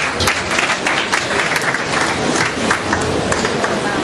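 Sustained audience applause at a tourism investment conference, loud and continuous with individual claps standing out through the dense crowd noise, no speech heard.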